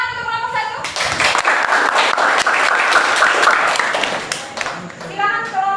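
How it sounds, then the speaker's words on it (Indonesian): Classroom of students clapping for a student group, a burst of brisk close handclaps that swells then fades, with children's voices before and after. "Tepuk tangan untuk kelompok"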